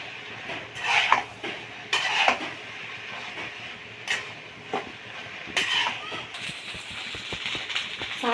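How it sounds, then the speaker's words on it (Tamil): A spoon scrapes and clanks against a pot as tomato rice is stirred over low heat, with irregular sharp metallic knocks and scrapes over a quiet background. "சிம்மில் வச்சு நல்லா கலரி விடுங்க"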